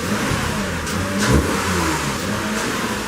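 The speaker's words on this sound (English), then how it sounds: "This is the first ever Toyota Camry to come with a quad exhaust." A 2018 Toyota Camry with a dual-outlet quad-pipe exhaust revs steadily and loud and close, with one brief rise in pitch near the middle and no talking.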